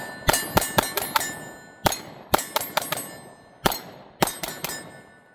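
Pistol rounds from an S&W Shield Plus striking steel targets: sharp, ringing metallic clangs in three quick bursts of about five hits each, close and crisp with short decays between volleys.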